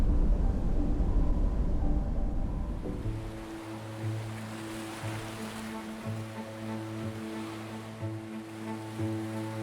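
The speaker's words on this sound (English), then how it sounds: "Waves crash against basalt formed by ancient lava flows." Ocean waves crash and wash against basalt rock formed by ancient lava flows, a loud surging roar at first that fades beneath sustained music.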